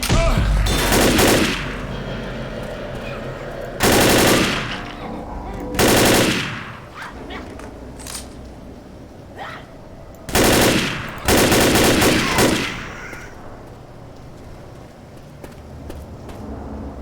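Video game machine gun fire comes in loud rapid bursts, several separate volleys spaced by quieter gaps with lighter clicks and movement between them.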